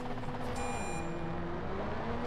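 Volkswagen Golf engine in the racing game GRID Autosport, a steady droning hum held at constant loudness throughout, with no talk over it.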